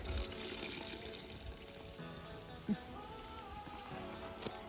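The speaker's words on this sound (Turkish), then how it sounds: "Bu şekilde sıkarak tortunu sudan ayırıyoruz." Wet sumac pulp being squeezed by hand and strained to separate the sediment from the water for sumac sour, giving a steady low watery trickle and splashing with a couple of soft knocks, fairly quiet and with no talking.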